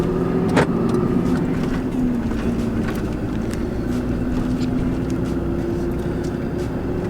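A lifted 6.7L Cummins Ram 2500 pickup with a six-speed manual transmission drives along, its steady low diesel drone and road rumble continuous throughout, with some wind noise and no talking.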